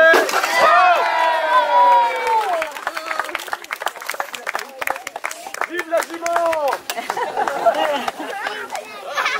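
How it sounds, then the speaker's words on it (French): A small crowd claps and cheers for a horse, with hand claps and excited voices mixing together close by. Children and adults chatter and call out over the applause throughout. "J'ai dit d'applaudir le cheval."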